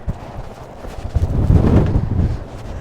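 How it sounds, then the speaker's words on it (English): Strong gusts of wind buffet the microphone outdoors at an RV dealership lot in Kelowna, a rough low roar that builds and surges toward the middle and stays loud to the end. "the wind is picking up here in Kelowna at the Travelland RV Supercenter."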